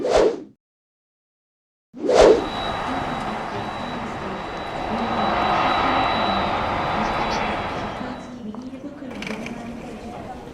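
Steady airliner engine drone inside the cabin on a flight to Japan, rising after a brief silence and holding a constant hum with a thin high whine, under talk.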